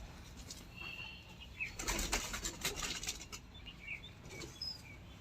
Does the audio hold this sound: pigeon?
yes